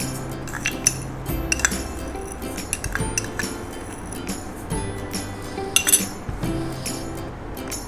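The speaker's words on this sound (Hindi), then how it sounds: "इसी के अंदर हम ये 5 चम्मच चीनी डाल देंगे" Spoonfuls of sugar added to yogurt in a bowl, a metal spoon clinking sharply against the dish in irregular taps and scrapes, close and fairly loud with soft rustling between strikes.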